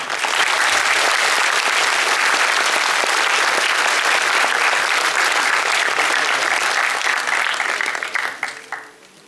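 A large audience at a Kyiv Comic Con 2015 film screening applauds, dense sustained clapping filling the room for several seconds before tapering off at the end.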